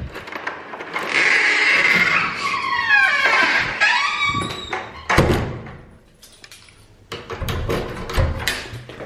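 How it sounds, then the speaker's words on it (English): An apartment entrance door in a holiday flat in Salou, Spain, swings and shuts with a few close, solid thunks and latch clicks, separated by brief scraping and rustling. "So this is our door."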